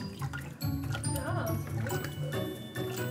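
Water with blue drops swirls in a container as it is stirred, giving soft sloshing and trickling close by, with people talking over it.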